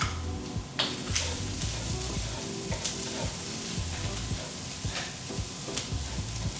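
Fried rice with green onions sizzles loudly in a pan, with steady hiss and frequent spatula scrapes and knocks as it is stirred close up.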